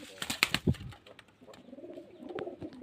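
Domestic pigeons kept for sale give low, soft cooing, preceded by a few quick sharp rustles or wing flutters close by, with a faint voice in the background.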